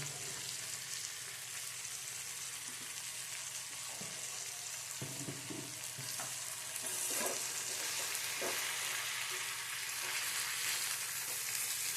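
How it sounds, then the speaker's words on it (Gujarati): Tomatoes and onions fry in a pan, with a steady sizzle throughout and occasional scraping and clinking as they are stirred, no voices. "આપણે એને વચ્ચે વચ્ચે થોડુંક હલાવતા રહેવાનું છે, એટલે આપણા ટમેટાં અને ડુંગળી છે ને એ મસ્ત થોડા બફાઈ જાય"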